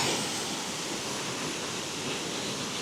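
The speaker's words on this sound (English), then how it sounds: "So we've got the waterfall there" Lumb Falls, a waterfall near Hebden Bridge in November, pours in a steady, full, broadband rush of falling water heard close by with no voices.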